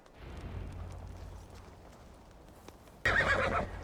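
A horse in the Viking-era video game Assassin's Creed Valhalla gives a loud, sudden whinny near the end, preceded by a low rumbling background and faint hoof clatter.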